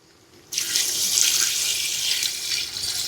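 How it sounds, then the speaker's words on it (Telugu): Water gushes into a biryani pot after a short quiet moment, a loud, continuous splashing pour that holds steady to the end. "ఇప్పుడైతే నీళ్ళు పోసుకుందాం."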